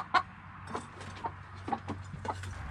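A chicken clucks in a run of short, separate clucks spread across a few seconds, moderately close, over a steady low hum, with no talking.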